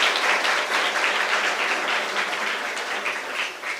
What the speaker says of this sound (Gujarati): તમામ માટે એકવાર ફરીવાર જોરદાર તાળીઓ થઈ જાય